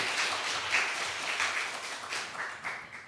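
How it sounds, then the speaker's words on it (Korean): Audience applause at a policy forum on isolated young people, moderate clapping from a seated crowd that goes on evenly for a few seconds at a fairly low level. "박수 한번 부탁드립니다"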